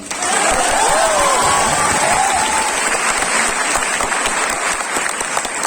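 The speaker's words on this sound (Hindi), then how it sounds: "बजाओ ताली।" Students in a study-motivation class break into loud, dense applause that holds steady from start to finish, with a few cheers rising above the crowd early on.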